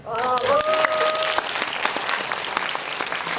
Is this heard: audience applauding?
yes